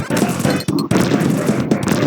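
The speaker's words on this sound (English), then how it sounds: "Just lots of explosions." Super R-Type video game explosions, a dense, loud, continuous barrage of rapid crackling blasts with only momentary breaks in the din.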